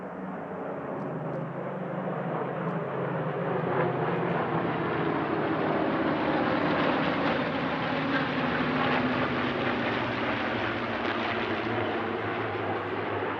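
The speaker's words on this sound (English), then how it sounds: "Warbirds over Scone was closed with a balbo, featuring a grand total of 13 aircraft on this occasion." A balbo of 13 warbird aircraft passes over an airshow, their combined piston engines making a broad, steady drone that swells and fades gently for over ten seconds without a break.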